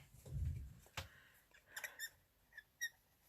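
Plastic-coated cards being handled give off several short, high squeaks spread unevenly through the clip, following a soft low thump at the start, all quiet and close with no talking.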